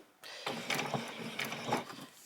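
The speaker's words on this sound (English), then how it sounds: "I'm just going to put my needle in the down position so it lands like that" A sewing machine running while sewing a fabric spring bunny, its needle stepping down into position; a steady close mechanical whir with a few brief surges in pace, no talk.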